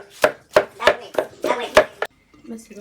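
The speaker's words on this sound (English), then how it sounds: "Then I put it into a mortar. Then I mashed it." Pumpkin pounded and mashed in a mortar, about seven sharp, evenly spaced thuds close up, then a brief pause and faint low movement.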